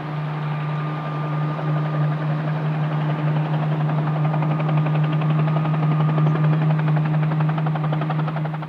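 Helicopter lifting off over snowy northern Saskatchewan, a loud steady engine drone with a rapid rotor beat throughout, close and continuous, no voices.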